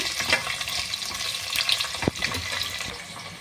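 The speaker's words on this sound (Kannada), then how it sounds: "ಈರುಳ್ಳಿ, ಹಸಿಮೆಣಸಿನ್ಕಾಯಿ ಹಾಕಿ ಸ್ವಲ್ಪ ಬಾಡಿಸ್ಕೊಳ್ಳೋಣ." Sliced onion and green chillies sauté in a pan for tomato bath, giving a loud, busy sizzle with crackles, a short spoon knock and a watery rush beneath.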